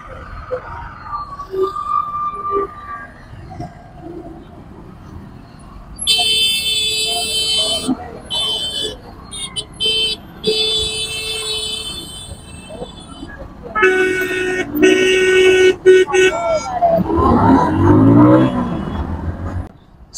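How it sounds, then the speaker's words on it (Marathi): Road traffic with vehicles honking, several long horn blasts and bursts of engine noise passing nearby, with scattered voices in between. "बघ गाड्यांचा आवाज कसा येतो"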